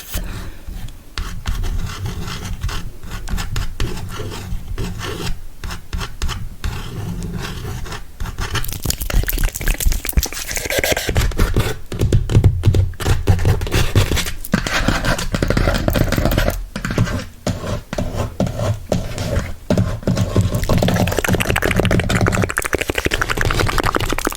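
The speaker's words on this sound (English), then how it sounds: "I want to do some scratching also." Close, steady scratching and rubbing, as in an ASMR session, with continuous rasping scrapes and sharp scratchy strokes throughout, louder and denser in the second half, and no talking.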